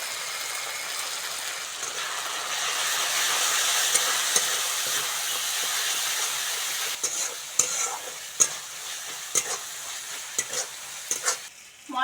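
Salt, turmeric, chilli powder and ground cumin paste fry with a little water in a pan, giving a loud continuous sizzle up close, then a run of irregular spoon scrapes and knocks from stirring in the second half.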